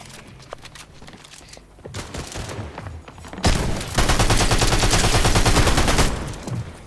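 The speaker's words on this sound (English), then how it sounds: "the bot's shooting at us" Sustained video-game gunfire from a bot, with bursts of rapid automatic shots that build into a loud, dense fusillade over the last few seconds.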